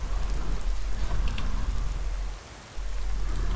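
Steady rain pours in the video game Skyrim, a dense continuous hiss with a low rumble, briefly dipping before resuming.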